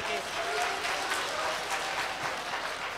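An audience at an All India Mushaira poetry gathering in Siwan, Bihar, breaks into steady, dense applause, a full crowd clapping evenly throughout at moderate level.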